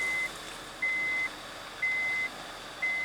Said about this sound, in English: I hate these seatbelt buzzers in this car.